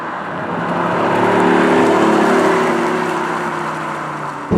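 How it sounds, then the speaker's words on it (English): A BMW accelerates hard, its synthesized V8-style engine sound playing as a loud, steady, droning roar heard up close from inside the car. "I love how the sound is. God, I hate to admit it because I know it's fake, but I love it. It sounds like a nice V8."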